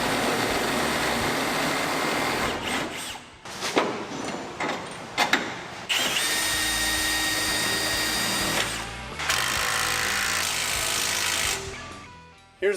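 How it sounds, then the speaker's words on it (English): A power drill reams out bolt holes in the frame of a 4x4 shortbed squarebody truck, whining in long, loud, sustained runs broken by short stops and clanks, close by with no talking. "the holes ain't large enough, so we're going to have to ream them out a bit"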